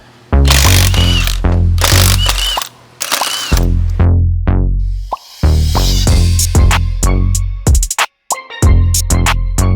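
Tools remove the wheels from a daily-driven car ahead of a coilover upgrade, producing loud, close bursts of rapid mechanical rattling, repeated in quick spurts separated by short gaps.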